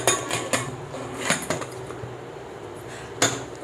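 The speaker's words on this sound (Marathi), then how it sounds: "आपण ह्याला झाकण लावून घेऊयात" Several sharp metallic clanks and scrapes of a pressure cooker lid being fitted onto the pot of mutton paya soup, spaced irregularly, close by, with quiet rattling between.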